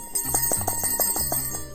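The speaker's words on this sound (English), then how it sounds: "Bells are affixed to the laces." Small bells tied to the laces of a baby shoe jingle close up, with several quick light tinkles in an irregular rhythm and no talking.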